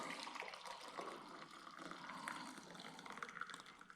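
Coffee poured from a pot into a cup in a rented apartment kitchen, a continuous soft splashing trickle of liquid that stays fairly quiet and steady throughout, with no talking.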